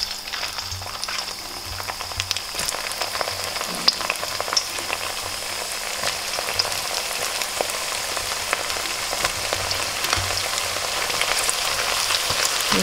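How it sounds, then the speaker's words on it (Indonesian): Tempeh frying in oil in a pan, a steady dense sizzle and crackle holding through the whole stretch with no voices. "Pertama, tempe kita goreng dulu ya."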